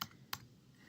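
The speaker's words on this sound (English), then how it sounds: "I'm gonna place my cursor on the W and I'm gonna hit backspace" Two quick plastic clicks from a computer keyboard backspace key being pressed while editing a Microsoft Word document, the first slightly sharper, both close and quiet with no talking.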